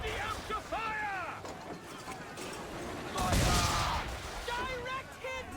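Ship cannons firing during naval combat in Assassin's Creed 3, a heavy booming volley surging in the middle among shouted commands and orchestral music, with voices talking over much of it.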